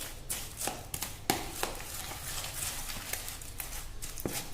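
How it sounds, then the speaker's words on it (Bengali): A spoon stirring and blending powdered sugar with cocoa powder in a bowl, giving close, irregular scraping taps and knocks against the bowl over a quiet background. "আমি চামচ দিয়ে এটাকে ব্লেন্ড করে নিচ্ছি"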